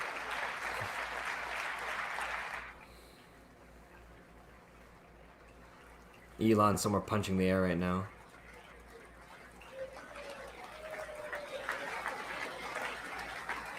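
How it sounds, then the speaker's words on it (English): Applause fills a chamber at a State of the Union address, then fades out. A short loud burst follows, and people talk over the quieter stretches later on. "That's such a good delayed applause line."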